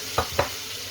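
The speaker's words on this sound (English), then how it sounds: "Next, it's time to add the chickpeas, or the chana," Chickpeas go into a pan of boiling balti sauce with two quick, close wet plops about a fifth of a second apart, over a steady low sizzle and bubble.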